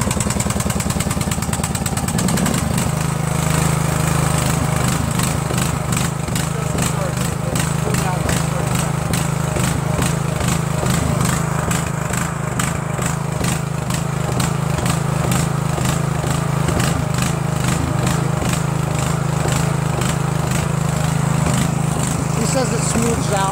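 A Craftsman DYT4000 lawn tractor with a Briggs 18.5HP engine runs steadily and loudly close by, idling with a rough, pulsing rhythm, while people talk over it.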